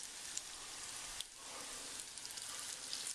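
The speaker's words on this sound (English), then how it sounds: "I'm going to gently lower it into my frying oil." Crab scotch eggs fry in hot oil, giving off a steady, quiet, even sizzle with faint crackles throughout.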